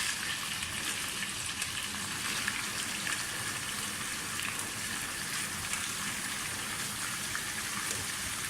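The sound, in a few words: chicken frying in oil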